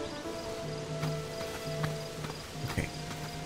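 Horse hooves clop in Zelda: Tears of the Kingdom, a scattering of soft, irregular footfalls over a quiet ambient game soundscape with steady tonal hums.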